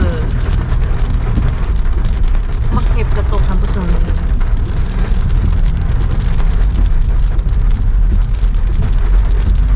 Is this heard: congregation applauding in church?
no